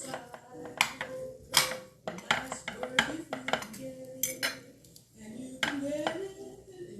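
A fork scrapes through cooked food in a kitchen, turning it into spaghetti-like strands, producing repeated close clinks and scrapes against dishware in an irregular rhythm.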